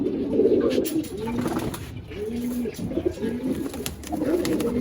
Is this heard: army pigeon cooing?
yes